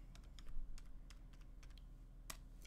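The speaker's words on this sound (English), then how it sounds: "So if we have it off, we turn it on, and let's just try typing." Typing on the keyboard accessory of a PinePhone Pro Linux smartphone: quiet, irregular plastic key clicks in a quick uneven rhythm, close up, with one sharper tap near the end and no talk.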